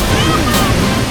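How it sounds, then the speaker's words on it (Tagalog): Strong rushing water at Franklin Falls in Washington, a steady loud roar with gusty wind noise on the microphone, continuous throughout with no clear voice over it. "Lakas ng alon niya, oh."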